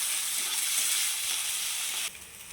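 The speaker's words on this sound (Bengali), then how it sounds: "গরম তেলে পেঁয়াজ, জিরা একটু হালকা করে ভেজে নেওয়া হচ্ছে" Onion and cumin fry in hot oil with a steady, close broadband sizzle that runs continuously, then drops slightly quieter near the end.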